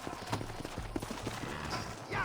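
Horses clip-clopping in the Red Dead Redemption video game, a light rhythmic patter of hooves running under a game soundtrack, with a voice speaking over it.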